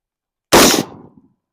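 A Bushmaster rifle fires a single sharp, loud shot outdoors at a short range, a sudden close crack followed by a brief decaying echo and a small clink.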